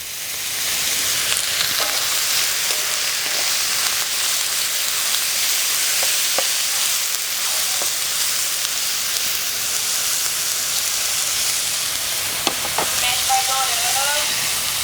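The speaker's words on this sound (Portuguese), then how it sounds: "começou a dar uma refogada nele, eu entro com alho" Shimeji mushrooms sautéing with garlic in a hot pan give a loud, continuous hissing sizzle across the whole stretch, with a few faint utensil taps and a brief squeak near the end.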